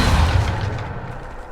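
The Depulso spell is cast in the video game Hogwarts Legacy, bursting out as a single heavy, close booming blast that rumbles and fades over about a second.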